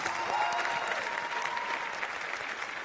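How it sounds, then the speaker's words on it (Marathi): A studio audience on a Marathi singing competition show claps for a singer, a dense, steady burst of applause filling the whole clip without voices. "एकदा सगळ्यांनी ह्याच्यासाठी जोरदार टाळ्या वाजवा"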